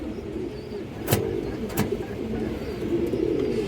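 Pigeons cooing at a pigeon market, soft low coos under a busy background murmur, with two brief sharp clicks near the start.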